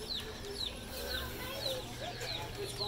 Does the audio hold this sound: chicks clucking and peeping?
yes